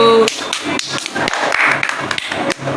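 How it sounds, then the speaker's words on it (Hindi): Quick, rhythmic hand clapping at a family birthday celebration, close and fairly loud, with voices talking alongside the beat. "तालियां बजाओ।"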